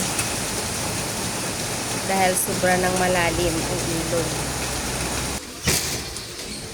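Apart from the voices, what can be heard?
heavy rain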